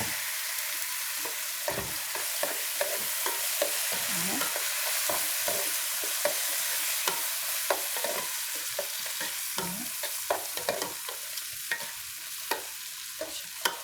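Rice and vermicelli frying in a hot pan, a constant sizzle broken by many sharp clacks and scrapes of a spoon stirring against the pan, close and busy throughout with no talk.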